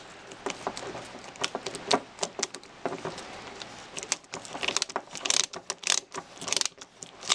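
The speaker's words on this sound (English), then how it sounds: "use the screwdriver and tighten it down to this hole on each side" A screwdriver tightens screws during an RC truck rebuild, making a close, quiet run of irregular clicks, scrapes and small metallic ticks that grow busier toward the end.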